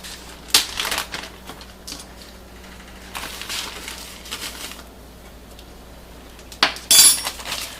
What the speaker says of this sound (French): Voilà, je mélange tout ça.